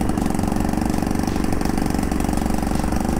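A Honda Monkey 50 cc motorcycle engine putters steadily at close range, an even, buzzing drone with a fast regular pulse and no voices.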